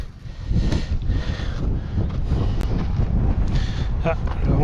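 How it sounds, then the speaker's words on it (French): Wind rises during a mountain bike descent over marl terrain, a loud, steady rushing roar buffeting the microphone throughout. "Ah, le vent se lève."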